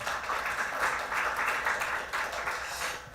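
A forum audience claps steadily for a speaker, a brief burst of even, moderately loud applause filling the whole moment.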